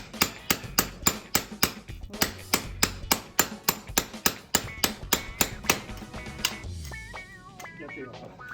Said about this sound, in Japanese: すぐ大ハンマー行こうか。